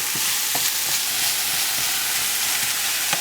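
Beef sizzling in a hot pan while being stirred around, a steady close frying crackle with soft scraping strokes of the spoon throughout, no talking.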